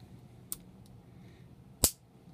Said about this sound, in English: you get a very tactile and audible click